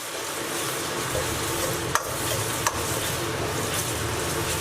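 Spices stir-fried over low heat with a chunk of beef tallow hotpot base, a steady dense sizzle filling the whole span, close, with two faint quick scrapes of a spatula.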